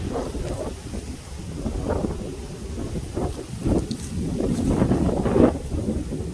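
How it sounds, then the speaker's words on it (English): Strong wind buffets the microphone in heavy, rumbling gusts that swell and fade, with no voices. "It is so windy out here."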